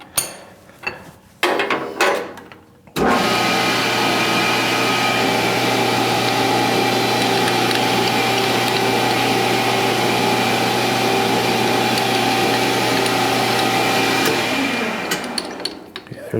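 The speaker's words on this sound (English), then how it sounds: "the first thing we're going to do is use a center drill" A center drill spotting a hole in a metal workpiece on a drilling machine for a split-cylinder edge finder, a steady loud motor hum and cutting whine running continuously for about twelve seconds after a few brief knocks.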